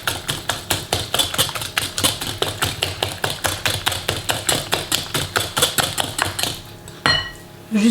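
Spoon or utensil rapidly clinking against a bowl while mixing tuna loaf ingredients with grainy old-style mustard, a fast regular tapping and scraping rhythm, close and loud, that stops near the end.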